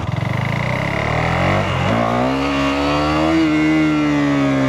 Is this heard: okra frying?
no